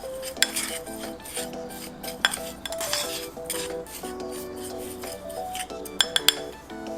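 Spoon stirring and clinking against a bowl while dry spices are mixed together: Szechuan peppercorn, star anise, ground coriander, ground cumin and curry powder. The taps and scrapes are close and fairly quiet, with bright ringing clinks at irregular intervals.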